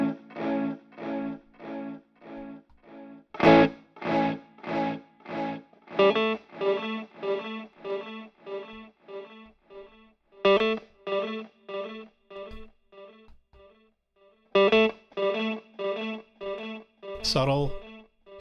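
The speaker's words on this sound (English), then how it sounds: "The saturation is cool because it's a nice warm kind of" Repeated guitar phrases played through a TE TapeEcho MkII pedal with its warm tape saturation engaged, giving a slightly distorted, echoing tone; loud picked notes in steady rhythmic bursts with brief pauses, no talking.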